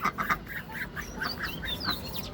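Soft, raspy quacks from two male ducks repeat in quick bursts, fairly faint and close together, with no talking.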